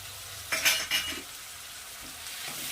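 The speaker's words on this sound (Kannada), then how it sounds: "ಈರುಳ್ಳಿ ಸ್ವಲ್ಪ ಫ್ರೈ ಆಗಿದ ನಂತರ ಟೊಮೊಟೊ ಸೇರಿಸ್ಕೊಂಡಿದ್ದೀನಿ" Chopped onion and tomato fry in a pan while a spoon stirs them, giving a couple of short scraping strokes over a soft, steady sizzle, close and fairly quiet.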